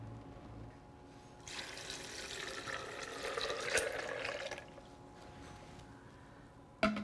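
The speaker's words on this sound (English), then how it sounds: "And I'm gonna add some water." Water pours into a Vitamix blender for a few seconds, a splashing rush that swells and then tapers, followed by a sharp knock at the end.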